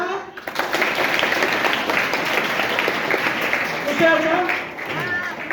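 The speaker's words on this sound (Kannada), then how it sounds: "ಒಂದು ಜೋರ ಚಪ್ಪಾಳೆ ಹೊಡಿಬೇಕಲ್ಲ." A crowd at a Kannada Rajyotsava celebration breaks into loud, sustained applause, a dense, steady roar of clapping that swells briefly near the end.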